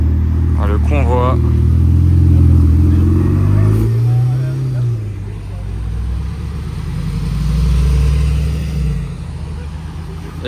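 A convoy of supercars, including a Bugatti Chiron and a blue Mercedes-AMG, passes on the road. One engine sweeps by with a rising then falling roar, and lower rumbles follow, while a person talks over the start.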